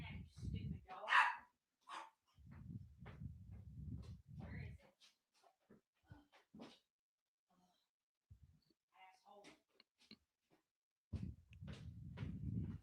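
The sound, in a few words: dog barking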